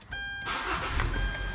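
A 2010-2014 Kia Soul with a push-button start conversion, the starter whirring briefly before the engine catches and settles into a steady close idle with a faint electronic tone.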